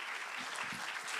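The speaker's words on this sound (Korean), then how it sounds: "큰 박수로 오정근 박사님을 맞이해 주시기 바랍니다" Audience applause welcoming a guest speaker, a gravitational-wave researcher, at a science and technology convergence symposium; a short, steady burst of clapping filling the hall.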